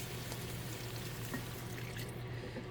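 Beef broth pours steadily into a pot while making turkey or beef stroganoff, a continuous close liquid splash and trickle lasting the whole moment with no talking.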